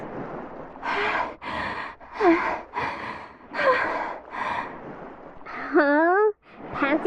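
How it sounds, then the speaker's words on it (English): Heavy, labored panting from a character in the video game Tower of Fantasy: a series of close, breathy gasps and snorts in uneven rhythm, ending with a few strained, voiced squeaks. "Panting so heavily?"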